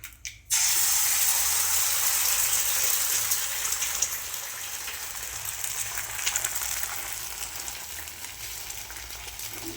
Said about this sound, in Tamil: அப்புறமா அதை சூடு பண்ணிவிட்டு நம்ம இந்த முட்டையை உடச்சி ஊற்றிக்கலாம்.